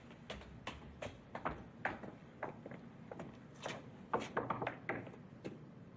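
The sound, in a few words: secret knock on a door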